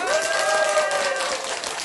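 A small audience at an Atomy sales talk claps briefly and steadily while a voice carries on above the applause.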